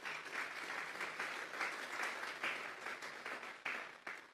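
A church congregation gives a strong round of applause during a Spanish-language sermon, fairly faint and distant, with uneven, surging bursts of many hands clapping in loose rhythm.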